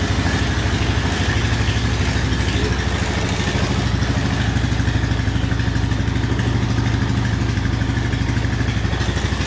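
An old plowing ATV engine idles steadily after carburetor work, a loud, close, continuous rumble with a rapid clattering pulse, no voices over it.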